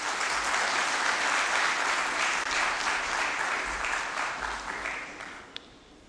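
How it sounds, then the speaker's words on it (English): Audience applause greets the President of ICAP as he is invited to the stage, a dense, steady wash of clapping from a large crowd that holds loud for about five seconds before thinning out. "Please give him a big round of applause."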